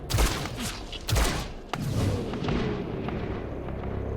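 Gunfire during a squad breach in the video game XCOM, several heavy booming shots in quick succession followed by a long rumbling roll of continued fire and debris.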